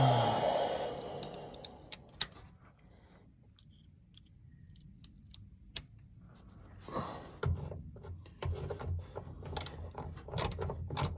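A ratchet with a socket reducer loosens bolts during an oil change on a 2017 Ford 6.7 diesel truck, giving close mechanical clicks and sharp ratcheting bursts in irregular spurts, with quieter pauses between pulls.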